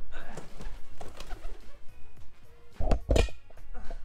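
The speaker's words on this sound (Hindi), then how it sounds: "ये कबूतर और कबूतरी, अब इन्होंने यहाँ घोंसला बनाना स्टार्ट कर दिया है।" A pair of pigeons nesting close by, with soft throaty coos and calls mixed with occasional thumps and rustling of nest material, fairly quiet with no clear speech.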